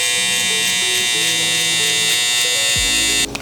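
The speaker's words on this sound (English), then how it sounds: "Now with our lever open, I'm using my saber clipper." A saber electric hair clipper runs with a steady high buzz while trimming a beard into a fade, its motor tone holding throughout, with a few faint voiced tones underneath and a brief clunk near the end.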